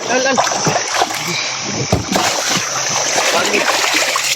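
Water splashes and sloshes at the seaside, repeated close splatters and pours over a constant wash, with people talking throughout.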